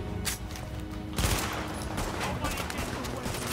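Gunfire in Tom Clancy's The Division on PS4 rattles in rapid bursts, with a sharp volley partway through, loud against a dense noisy background.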